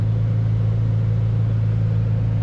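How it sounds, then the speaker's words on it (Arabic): A 2021 Ferrari Roma with a 612-horsepower twin-turbo V8, driven at night around City Walk in Dubai, gives off a steady, loud low rumble of cabin engine drone that holds level for the whole short stretch. "اليوم تجربة قيادة فراري روما 2021"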